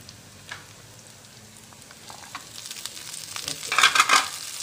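Ginger garlic paste sizzles with onions in a pan for crab gravy, a steady crackling fry with scraping stirs that grow louder and busier toward the end.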